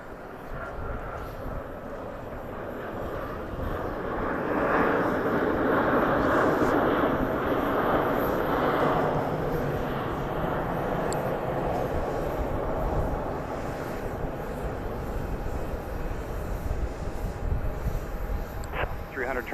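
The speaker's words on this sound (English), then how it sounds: "Southwest 8, Love Tower, runway 31 right, clear to land" A Southwest airliner lands on runway 31 right at Dallas Love Field, its engine roar swelling loud and broad before easing into a sustained rumble, with voices partly audible over it.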